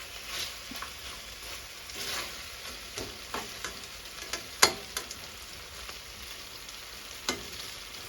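Stir-frying fermented pork (naem) with chicken drumsticks in a home kitchen pan, a steady close sizzle with scraping stirs and occasional sharp spatula knocks on the pan, no voices.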